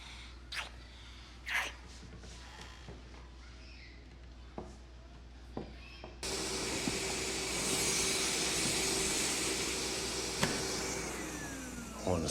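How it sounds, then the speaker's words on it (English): A vacuum cleaner kicks on partway through and runs as a loud steady hiss and whine, after a quieter stretch of faint rustles and breaths. "Honestly, Hannah, you should give the vacuum a rest."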